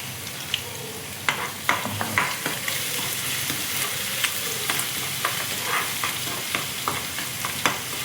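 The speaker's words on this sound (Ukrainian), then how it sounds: "Чуть-чуть піджарюємо" Crab-dish ingredients, garlic, pepper and sugar, sizzle and fry in a hot pan in Pattaya, with steady frying crackle and repeated sharp scrapes of stirring throughout, close and moderately loud, no talking.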